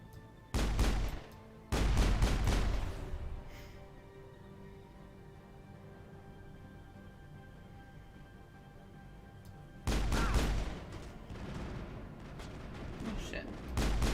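Gunfire erupts in the Mass Effect video game in a few loud, dense bursts, with a quieter stretch of background game ambience between them.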